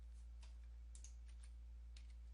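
Faint clicks from typing a command on a computer keyboard come in a few scattered keystrokes over a steady low electrical hum, with no voices.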